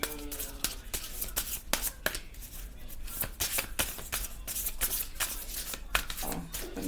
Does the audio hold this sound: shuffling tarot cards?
yes